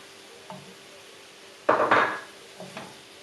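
A utensil stirs flour into softened mushrooms and chicken in a pot, making a few close scraping knocks, with one louder scrape in the middle and fainter taps before and after.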